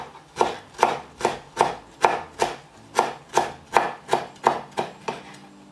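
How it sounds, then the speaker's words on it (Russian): A knife chops finely through fresh parsley and dill on a board, about fourteen crisp, evenly spaced strokes in a steady rhythm, close and clear with no talking. "мелко нарубим зелень петрушки и укропа"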